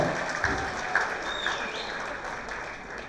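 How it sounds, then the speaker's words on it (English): At a graduation ceremony, an audience claps steadily through a hall, a moderate even patter of many hands, with faint voices underneath. "Give a big round of applause"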